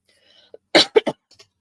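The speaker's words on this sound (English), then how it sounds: "As long as I'm not talking, I'm not coughing." Three short, sharp coughs in quick succession, close and fairly loud, with a faint throat sound before them and a small wheeze after, with no talking.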